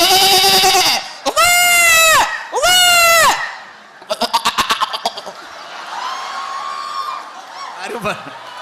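A goat bleating sound effect played during a comedy show, with three loud, wavering bleats, a fast fluttering bleat, and then softer drawn-out calls that trail off.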